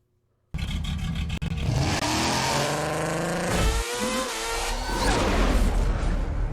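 A rally car engine in the video game V-Rally 4 starts abruptly and revs hard, rising and falling in pitch with loud, sustained acceleration and no voices.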